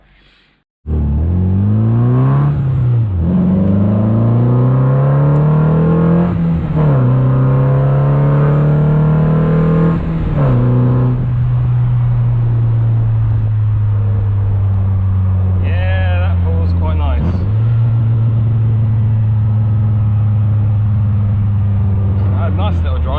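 An MG Midget's engine runs steadily and revs up through rising gear changes on the road, pitch climbing then dropping at each shift, loud and close throughout.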